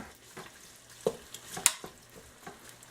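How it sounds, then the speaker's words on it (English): Ham chunks browning in a pot for pressure-cooker bean soup, stirred with a few separate scraping knocks over a quiet, steady sizzle. "I'm just going to stir them around and brown them up a little bit."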